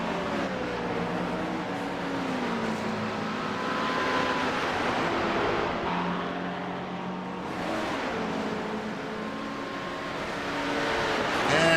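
Race car engines in a sim racing game at Road Atlanta, a McLaren among them, hold a steady, moderately loud drone with shifting pitch as cars run down the straight, with no talk over it.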